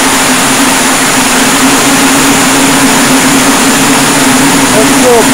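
A small metal rotating flow turbine runs at full throttle, a loud, steady whine with a strong droning hum that holds constant throughout with no break.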